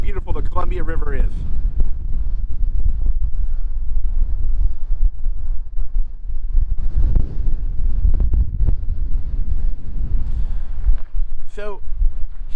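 Gusty wind by the Columbia River in Washougal, Washington, buffeting the microphone with loud low rumbles throughout, while someone talks intermittently over it.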